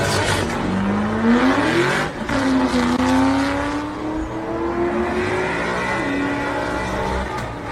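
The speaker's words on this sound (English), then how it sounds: "Mustang chases a Supra." Mustang car accelerating hard while chasing a Supra, a loud engine roar climbing in pitch through gears with a short break before revving up again.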